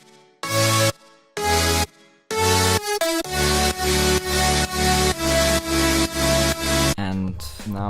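Synth lead built from a prime wavetable and detuned saw waves in a track, entering as a few separated stabs before settling into a run of bright, loud sustained chords pumping with sidechain, no talk.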